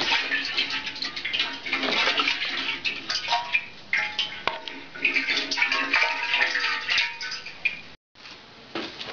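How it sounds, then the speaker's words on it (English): Fuel sloshing and trickling inside the tank of a Harley-Davidson Evolution Sportster, a steady close liquid swirl with faint ticking, running almost continuously and dropping out briefly near the end. "As we can hear, there's a fair amount of fuel in there."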